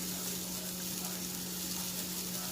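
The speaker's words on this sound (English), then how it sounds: "You put your meatballs in the pan like this." Meatballs sizzle and fry in a hot pan, a steady, even crackle that runs without a break and without talk, close and fairly quiet throughout.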